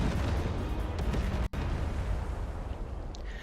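Heavy cannon fire in the naval strategy game Forts, a dense, continuous roar of booming blasts that layer into one loud rumble, briefly cut to silence near the middle before the barrage resumes.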